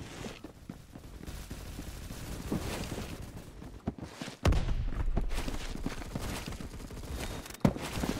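Rapid bursts of M231 rifle fire in the video game Phantom Forces, with dense crackling shots and a sharp louder burst near the end, mixed with game ambience and no one talking.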